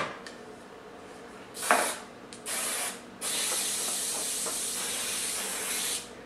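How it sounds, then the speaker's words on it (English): Cooking spray hissed from a can onto an 8 by 8 baking pan for brownies, in a short burst and then two longer steady sprays, loud and close, with no talking. "we're going to grease our baking sheet"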